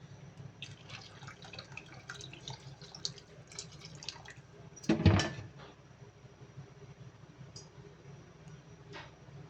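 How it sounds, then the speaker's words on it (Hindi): Water is poured into potato biryani as it cooks in a home kitchen. Faint dripping and liquid sounds run under a quiet background, with one brief, louder splash partway through. "पानी कम लग रहा है, हम थोड़ा और शामिल कर देंगे पानी को।"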